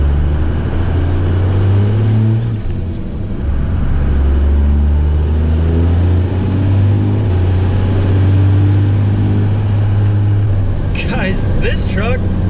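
Inside a dually pickup truck fitted with a cold air intake while driving, a steady loud low engine drone holding throughout, with a faint brief rattle near the end.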